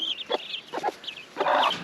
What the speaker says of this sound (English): And Mama Hen is very, very protective